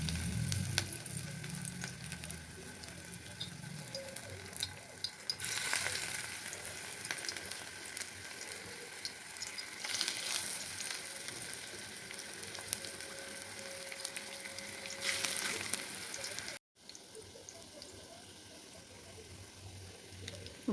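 Hand-shaped round fritters (bara) frying in hot oil, a steady close sizzle running throughout with occasional bursts of louder spattering, then a brief cut and the sizzle continues.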